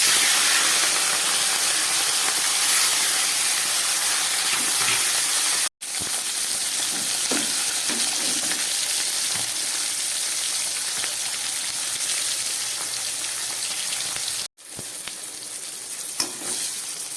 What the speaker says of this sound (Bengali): তেলটা গরম হয়ে গেছে, এবার আমি মাছগুলোকে ভেজে নিচ্ছি।